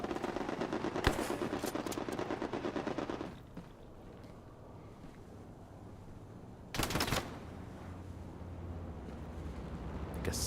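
Gunfire in the World War II shooter Hell Let Loose, with a loud rapid machine-gun burst, a quieter stretch, then another sharp close blast and more scattered shots.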